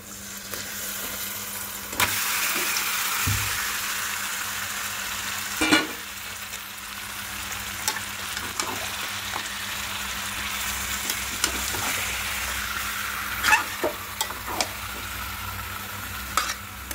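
Chicken sizzles in a pan of ginger, garlic and green chili paste for chicken malai curry, a steady hissing fry with occasional spatula scrapes and taps against the pan.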